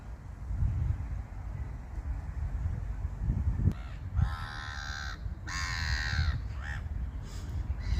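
Gulls calling by a river: harsh squawking cries near the middle and end, loud against steady wind noise and low rumble outdoors, with no talk.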